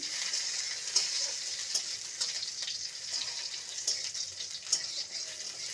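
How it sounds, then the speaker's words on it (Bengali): Washed raisins fry in a pan, giving a steady bright sizzle with small crackles and pops throughout, close and moderately loud. "আর কিশমিশ ভেজে নেব"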